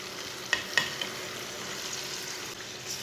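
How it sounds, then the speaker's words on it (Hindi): Boiled chickpeas are stirred into a spice masala in a pan over a steady soft sizzle, with two or three brief spoon scrapes near the start, close and alone. "अच्छी तरह मिक्स कर लेंगे"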